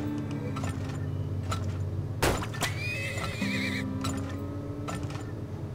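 Horse neighing in the video game Turmoil, a clear whinny with a rising-then-falling tone over steady game music and ambience, accompanied by faint hoof clip-clops.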